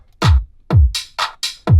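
A big, fat electronic kick drum beat with a sharp electronic clap layered over it in a DJ production, six punchy hits at a steady tempo, loud and close with no talking.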